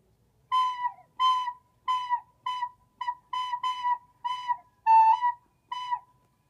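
Recorder played by a beginner, each note separated by a puff of breath rather than tonguing: eight short, soft-edged tones in an even rhythm with brief gaps between them, close and alone.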